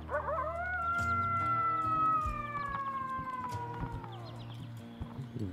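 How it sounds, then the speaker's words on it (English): Around a rural chicken yard, a coyote lets out one long, wavering howl that slowly falls in pitch. It is fairly clear over quiet background noise. "We have a lot of coyotes around here."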